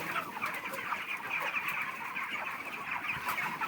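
Broiler chickens on a poultry farm, birds about forty days old with a slight cold, keep up a steady, dense chorus of clucking and chattering from a crowded flock. No one speaks.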